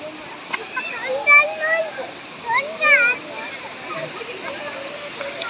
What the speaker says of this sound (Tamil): அருவி பாருங்க எப்படி வருதுன்னு